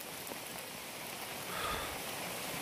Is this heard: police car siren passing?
no